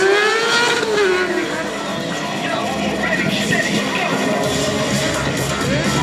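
Kawasaki stunt motorbike engine at a Santa Pod stunt show, revving hard and steadily as the rear end slides round, a loud continuous roar with pitch sweeps throughout and a voice talking over it.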